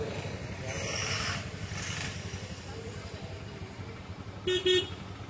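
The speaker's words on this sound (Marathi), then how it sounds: "ट्रॅफिक बघा झालंय." A congested road in the Konkan region with a large bus in the queue carries a steady low hum of idling and creeping engines, then a vehicle horn gives two short, close toots near the end.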